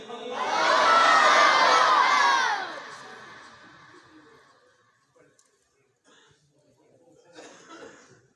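A large crowd at a religious conference roars a loud chanted response to a Nara-e-Takbir call, a dense swell of many voices lasting about two seconds, then fading into coughs and scattered murmurs before a smaller rise of voices.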